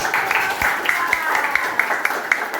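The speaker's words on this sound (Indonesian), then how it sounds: "Oke, tepuk tangan." A school class claps after a group chant, a steady patter of many hands with sharp individual claps standing out, while a voice talks over it.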